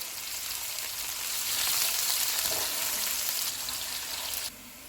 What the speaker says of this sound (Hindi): प्याज डालेंगे। इनको गोल्डन ब्राउन फ्राई करेंगे।